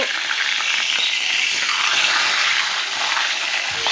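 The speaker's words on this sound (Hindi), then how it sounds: "अब इसी को हमें पलटना है। एंड ध्यान से पलटिएगा, हमारा तेल भी गरम है।" Golden fish fries in hot oil, a loud, dense and continuous crackling sizzle heard close up, with faint shifting as the pieces are turned.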